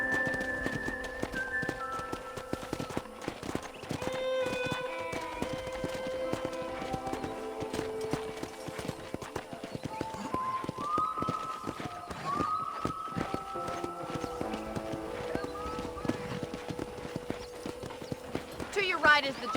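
Horse hooves clip-clop in a quick trotting rhythm on a ranch, steady and fairly close, with a light melodic music bed underneath and a brief whinny-like sound near the end.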